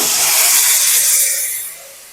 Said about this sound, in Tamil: புளி தண்ணி ஊற்றிக்கிறேன்